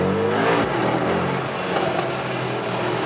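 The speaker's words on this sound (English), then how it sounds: "This optional performance exhaust is really something." A Mercedes GLE 63 S AMG Coupé with optional performance exhaust roars as it accelerates in a tunnel, a loud, reverberant exhaust note that fills the space and holds steady.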